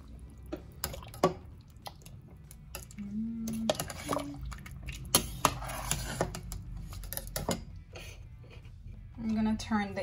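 Stew peas being stirred in a pot, with wet, squishy clinks and drips as a spoon works through the thick mixture, close and fairly loud in irregular bursts, with a voice speaking at moments.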